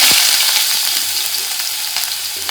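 Onion frying in hot oil with mustard seeds and cumin, a loud close sizzle that goes on throughout, with a few light stirring clicks and no talk.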